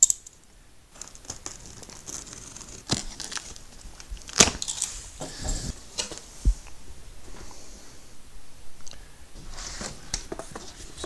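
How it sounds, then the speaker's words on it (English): Cardboard box holding a WARN VR10-S winch being cut open, with sharp slicing scrapes, crinkling and scattered taps close up at a modest level, no talking. "I'm going to begin to cut open the box."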